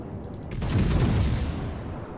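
Heavy naval gunfire from the Bismarck battleship in World of Warships, a single deep booming salvo that swells and rumbles for about a second before trailing off, loud and close with no talking.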